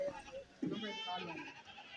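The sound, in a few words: goats bleating at a livestock market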